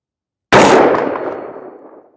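A single sharp rifle shot firing Atomic Ammo 77 grain match ammunition, loud and close, with a sudden crack followed by a long ringing decay that fades out over more than a second.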